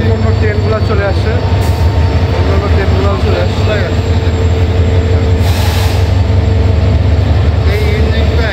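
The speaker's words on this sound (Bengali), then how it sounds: "পাশাপাশি অন্য অন্য ট্রেনগুলো চলে আসছে" Trains pull in alongside a railway station platform near the Jamuna rail bridge, making a loud, continuous rumble of wheels and carriages with faint squeals that holds steady throughout.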